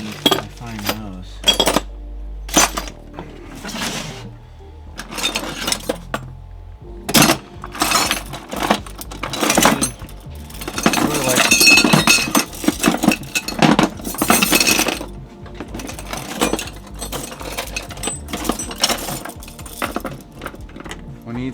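Old metal meat grinder plates being rummaged through at a butcher shop, with close, bright clinks and clatters in irregular bursts separated by short pauses.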